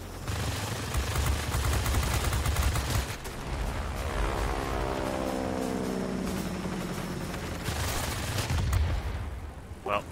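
Tail gunner machine gun fire in the World War II bomber game Bomber Crew: rapid, dense bursts of automatic fire over a steady droning aircraft hum, with a rising whine through the middle and another loud burst near the end.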